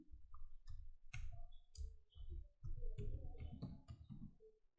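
A computer mouse clicks repeatedly while logging in to a web page, producing crisp, close, sharp clicks at an uneven pace alongside soft tapping and desk handling noise.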